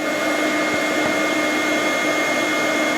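A vacuum draws bees out of a hive during a removal from a double-wide home, a steady close broadband roar that holds unbroken throughout with no talk.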